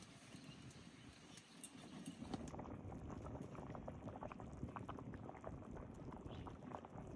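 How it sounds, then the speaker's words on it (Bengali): Hilsa curry with elephant foot yam simmering in a pot, giving a steady close bubbling boil with soft irregular pops throughout, no talk. "এইবার টান করে জাল দেবো, ঝোল ভালো করে ফুটুক"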